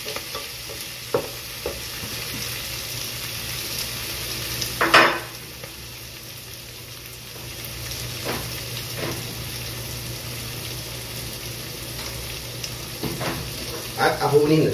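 Milkfish (bangus) fries in a pan for a home-cooked meal, a steady low sizzle with a few sharp utensil clinks and stirring scrapes.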